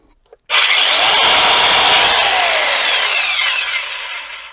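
After a short quiet moment, a Metabo KHE 3560 Q rotary hammer drill starts up loudly and runs for several seconds with a harsh, gritty whine that slowly falls in pitch.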